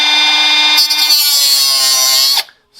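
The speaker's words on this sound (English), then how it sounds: "Take the thin grinder," Loud, high whine of a thin grinder scoring a mark on a Ram 1500 tie rod during a 4-inch Zone lift kit install, holding steady for about two seconds and then spinning down abruptly.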